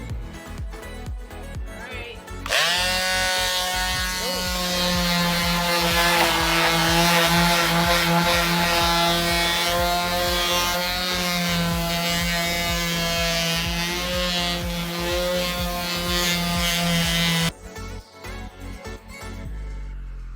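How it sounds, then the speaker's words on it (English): Power sander working dried wood filler on an Ikea mirror frame, a loud steady whining buzz running about fifteen seconds without pause, with quieter scraping before and after. "And once it's dry, we're gonna sand it"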